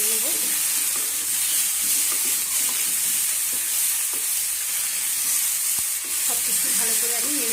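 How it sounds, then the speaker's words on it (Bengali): A spiced banana mixture with salt and cumin powder sizzles steadily in a pan while being stirred, a constant bright hiss with occasional soft scrapes and faint background murmurs. "এবার সব কিছু আমি আবারও ভালো করে নেড়ে চেড়ে নেব।"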